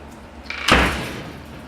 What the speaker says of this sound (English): Excuse the door, the wind here.